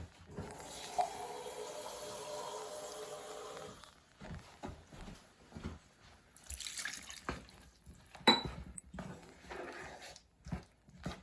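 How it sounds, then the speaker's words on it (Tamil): Water poured into a pot of chicken curry with potatoes, a running, splashing pour for several seconds that then breaks into scattered drips and small clatters, close and moderately loud with no talk. "இன்னும் கொஞ்சம் தண்ணி ஊற்றி திக்காக இருக்குது."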